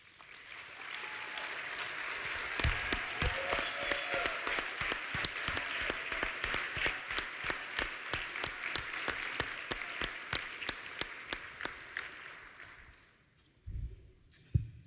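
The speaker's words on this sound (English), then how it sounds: "please stand for a round of applause" Audience claps for steering committee members at a campaign event, steady applause that swells with rhythmic clapping from part of the crowd, then fades out near the end, leaving a few thumps.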